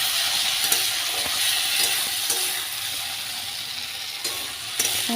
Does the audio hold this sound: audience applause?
no